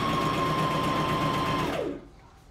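A sewing machine stitches fabric straps in a live sewing class, a close, steady whirring run that slows and stops near the end, leaving quiet.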